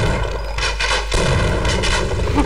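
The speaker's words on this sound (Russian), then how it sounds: "снайпер, блин." Gunfire in a Half-Life 1 mod, Residual Point, with sharp loud shots cracking out over a heavy rumbling backdrop, close and forceful within a short burst of combat.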